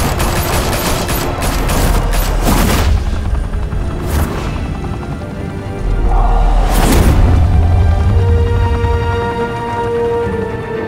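Heavy gunfire erupts in loud, rapid bursts, with sharp cracks near the start, another volley around four seconds, and a booming, rumbling barrage near the middle that trails off.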